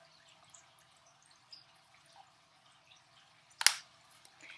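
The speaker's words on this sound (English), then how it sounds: "put a little bit of yellow food coloring into the cup" Yellow food coloring drips into a cup of water in a quiet room, heard as a single soft, short drip or tap near the end of the silence.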